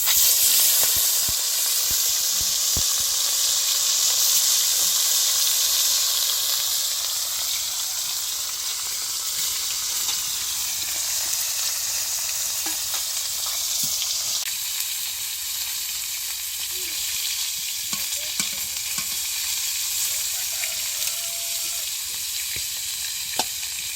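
Shol fish frying in a hot wok, a loud continuous sizzle that gradually settles into a steadier, softer hiss with occasional small pops and clicks.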